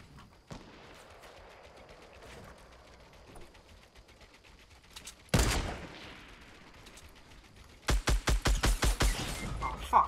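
Enemy gunfire in Fortnite Battle Royale from a shooter on top of a big hill: scattered single shots at first, then a loud blast and a rapid burst of close, evenly spaced shots near the end, with no voices.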